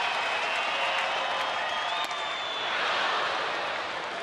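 Stadium crowd at a Los Angeles Angels vs. Texas Rangers baseball game, a steady broadband roar of cheering and applause lasting throughout, loud and continuous without clear breaks.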